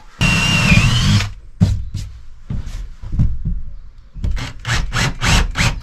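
A power drill drilling through a van panel whines in a sustained burst, then several short bursts and rapid pulses follow, close and loud, with knocks and rattling between.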